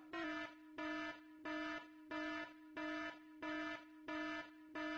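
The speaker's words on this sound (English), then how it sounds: "Who did raise alarm?" An alarm sounds in the mobile crime game The Gang Auto as a loud, buzzing electronic tone that pulses eight times in a steady, even rhythm.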